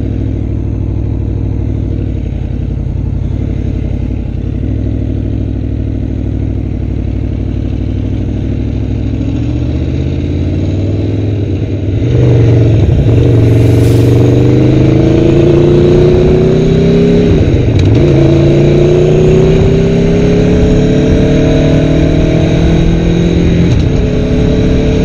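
A 2016 Aprilia Tuono V4 1100 RR motorcycle with factory exhaust idles with a deep, throbbing burble, then pulls away with rising and falling revs through several gears, loud and close.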